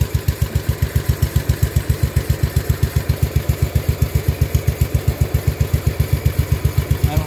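A 1974 John Deere 140 H3 lawn tractor engine running steadily close by, its rapid, even exhaust pulses forming a loud, regular thrumming throb with no voices over it.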